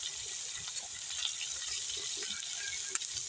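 Cumin and onion fry in a pan for mutton kasha at a picnic, a continuous soft sizzle with light stirring clicks, fairly faint and even, with no talking.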